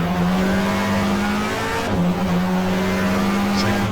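A 1994 GTR2 race car is pushed hard through the hairpins at Mallala in the Australian Manufacturers Championship, its engine a loud, steady, close drone. A brief dip in pitch marks a gear change near the middle.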